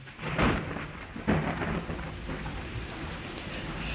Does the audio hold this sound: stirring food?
no